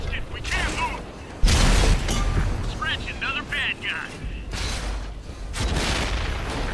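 Tank cannon rounds hit the player's tank from behind in World of Tanks: loud booming impacts and crashing bursts over a constant engine rumble, with someone talking over the noise.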